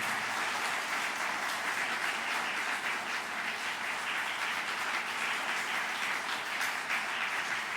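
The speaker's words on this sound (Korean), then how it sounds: "네, 박수하겠습니다." Korean church congregation in Shanghai clapping at a pastor's installation service, a full, steady roar of many hands applauding together, evenly loud and unbroken throughout.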